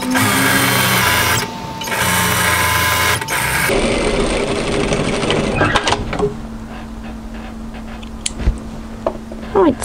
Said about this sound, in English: I'm just going to run a second line of stitching exactly parallel to the first on the fold edge